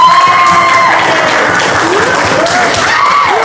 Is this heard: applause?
yes